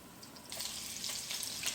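Meatballs browning in a hot frying pan, a steady close sizzle that thickens and crackles more strongly about halfway through, with brief pops on top.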